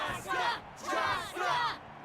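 A crowd in the Genshin Impact video game roars and cheers in three swelling bursts, loud and close, with a brief dip between each wave of shouting voices.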